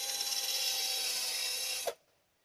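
Sanding of greasy brake parts from a 1990 Peugeot 309 GTI: a steady, loud abrasive rasp runs for nearly two seconds, then stops abruptly and leaves near silence.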